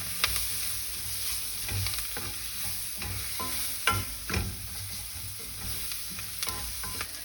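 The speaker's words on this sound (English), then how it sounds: "So the onions have been cooking for a little bit." Onions sizzle in a pan with masala and salt for a watermelon rind sabzi. A steady close frying hiss is broken by repeated scraping and clacking stirs, with no talking.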